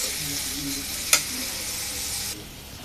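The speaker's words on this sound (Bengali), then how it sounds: "পেঁয়াজটাকে বাদামি রং করে ভেজে নিব।" Sliced onions frying in hot oil until brown, the base for a Bengali koi fish curry: a dense, steady close sizzle with one sharp utensil clack midway, then the frying sound drops slightly quieter.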